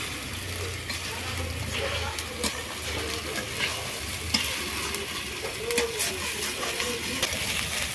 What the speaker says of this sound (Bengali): আদা রসুন পেঁয়াজ ভাজা হয়ে গেছে